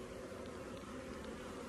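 Honey bees buzzing around a large, unruly beehive, a continuous dense drone close by, steady and even with no voices over it.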